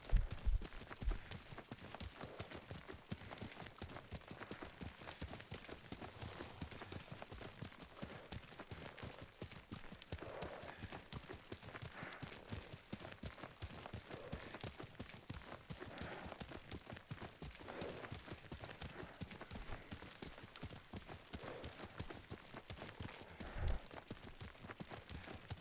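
Horse hooves clip-clopping steadily during riding in the video game Ghost of Tsushima, a continuous quiet rhythm of hoofbeats over faint ambience for the whole stretch.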